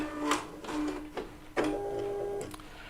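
A Bernette B79 sewing machine stitches a single decorative pattern in short, stop-start bursts of whirring and clicking, close by, with no voices.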